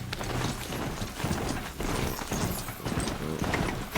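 Rapid hoofbeats of a horse clip-clop steadily over a busy video game soundscape, with a galloping rhythm that stays loud and close throughout.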